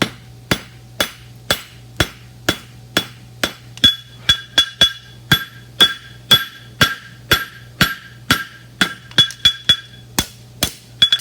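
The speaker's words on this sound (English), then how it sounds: "I'm using the edge of my hammer to knife blade it." The edge of a hammer strikes a sheet metal edge for a roadster body in a quick, steady rhythm, dozens of sharp ringing blows close up, with a faint hum underneath.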